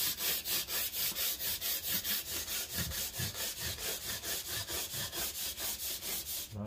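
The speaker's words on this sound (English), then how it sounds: "So I'm just going to just lightly sand it." Steady back-and-forth sanding of wood with 400-grit cloth sandpaper, light strokes in an even rhythm of roughly three per second, close and continuous with no talking.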